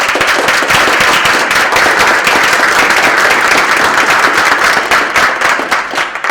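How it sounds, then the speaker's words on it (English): A room full of people gives sustained, dense applause at a community gathering for a library's long-serving staff, with close, steady clapping filling the whole stretch and easing slightly near the end. "give them a round of applause."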